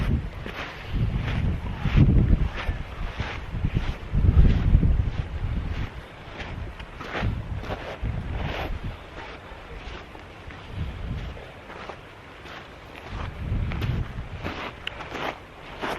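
Wind gusting across an open sandy beach on Anglesey, a steady broadband rush swelling and easing in several strong bursts over the whole stretch, close on the microphone with no voices.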